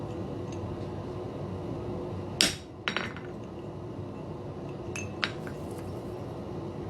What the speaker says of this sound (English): And kind of walk that chisel around.